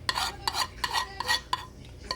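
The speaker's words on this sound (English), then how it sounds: "Just want to scrape all the bits and everything off the pan." A utensil scrapes and stirs a ground beef and beef broth mixture in a pan for chili, making a string of quick, close scraping strokes with small clinks, with no talk.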